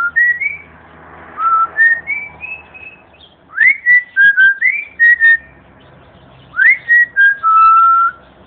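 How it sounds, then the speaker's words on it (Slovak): Grey parrot whistling a rock and roll tune, clear close melodic whistled phrases in short bouncy groups separated by pauses, rising and falling in pitch. "ako ty krásne pískaš rock'n'roll"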